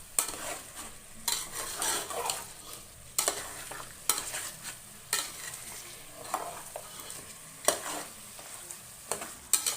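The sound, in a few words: mutton frying in tempering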